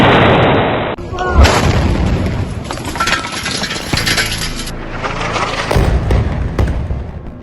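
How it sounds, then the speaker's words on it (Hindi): A sudden loud explosion from a drone strike bursts out, followed by a sustained roar of rumbling and crackling debris that slowly fades. "टारगेट लॉक होता है और तभी होता है एक जोरदार धमाका।"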